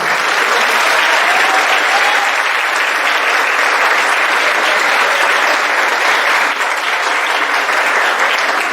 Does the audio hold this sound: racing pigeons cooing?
no